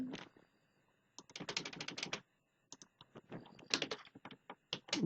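Fingers type on a computer keyboard, rapid clicking bursts of keystrokes broken by short pauses, close and crisp with no talking.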